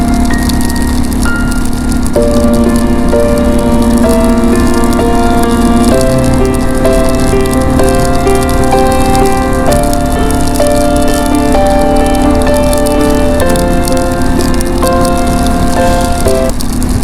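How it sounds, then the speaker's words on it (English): Heavy rain hammering down on a moving Pan Am motorcycle, a dense, loud, constant hiss and patter of drops mixed with wind rush and steady engine drone for the whole stretch, with no talking. "So I'm absolutely getting hammered by the rain now."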